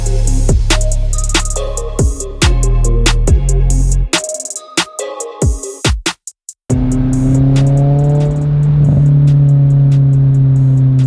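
An Acura RSX engine revs and drops, with popping exhaust burbles and crackles, then settles into a loud, steady idle drone.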